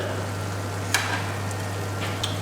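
Bolognese beef mince cooked with beef Oxo cubes is stirred in the pan. A steady soft sizzle runs throughout with a few faint scraping stirs and a constant low hum underneath.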